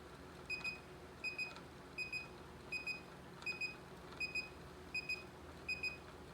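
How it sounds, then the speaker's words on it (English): A laboratory titrator beeps at the endpoint of an SO2 titration in wine, giving a steady series of faint, evenly spaced double beeps over a low background hum. "I've reached my endpoint, and I need to count 20 consecutive beeps"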